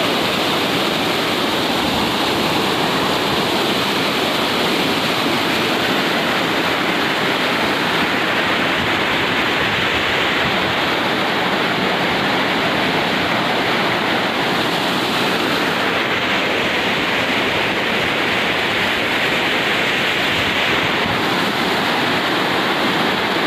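River water rushes continuously and loudly at a crossing made on the way to go fishing, a steady broadband roar with no break.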